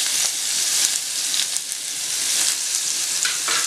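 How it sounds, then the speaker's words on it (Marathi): Onion fries in hot oil with cumin, curry leaves, asafoetida and green chillies for a Marathi drumstick bhaji, a loud, close, steady sizzle and hiss with light stirring. "त्यानंतर कढीपत्ता, हिंग, ओल्या मिरच्या आणि आता कांदा घालूया।"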